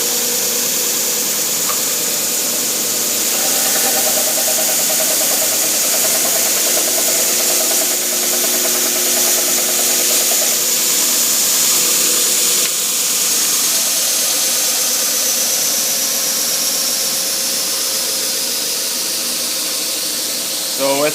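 A belt and disc sander with dust collection runs continuously and loudly, a steady high whine over a broad motor roar, with slight shifts in pitch as it works.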